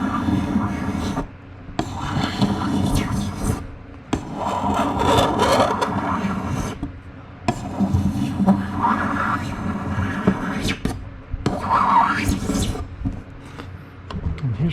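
Card scraper shaving the plastic canopy of an RV-14 aircraft, heard as repeated rasping swipes in bursts with short pauses, close and fairly loud, with faint background hum.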